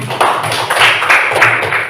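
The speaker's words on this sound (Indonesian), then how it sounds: "Tepuk tangan." Pupils in a classroom clap together in a loud, close, continuous patter with a few stronger accents, lasting about two seconds.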